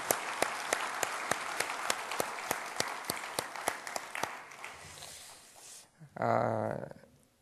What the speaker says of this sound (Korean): 다시 한번 우리 엄태환 교수님 박수 한번 하시겠습니다